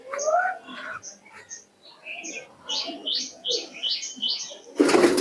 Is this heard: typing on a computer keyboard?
no